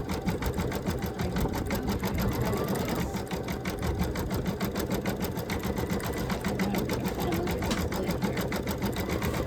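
Embroidery sewing machine stitching a strutting rooster design, a steady rapid needle pounding that runs continuously and fairly close throughout, with no talk over it.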